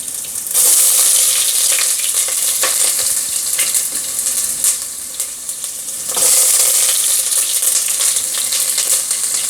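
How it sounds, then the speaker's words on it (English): Onions hit a very hot pan for seafood fried rice, bursting into loud, bright sizzling that eases back and then flares up strongly again, with light stirring scrapes and no talking. "Then I'm going to add some onions."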